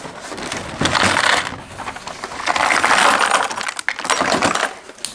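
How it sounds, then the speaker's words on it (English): Broken glass pieces shifting and clinking inside a cardboard mystery box as it is handled, bursts of gritty rattling and tinkling that come and go over several seconds, close and loud with no talking. "One of them is broken. You can hear the glass."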